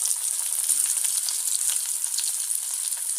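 Potatoes frying in a pan, giving a steady close hiss of sizzling oil with fine crackle and no pauses over a few seconds.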